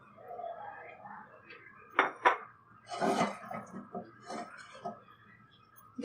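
Onions fried red in oil and stirred in a pot for chicken biryani, giving a few sharp spoon-on-metal clanks and scrapes at a moderate distance, with quieter stirring and kitchen bustle between them.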